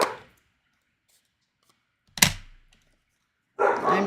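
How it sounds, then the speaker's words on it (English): Dogs in a home bark in a few short, sharp bursts separated by silence: one at the start, a sudden loud bark around the middle, and another burst of barking at the end. "the dogs are crazy"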